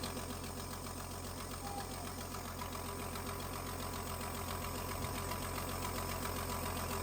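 Engine idling smoothly up close, a constant rhythmic mechanical patter with a low throb underneath, steady in level for the whole stretch with no voices.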